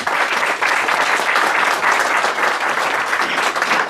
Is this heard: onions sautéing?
no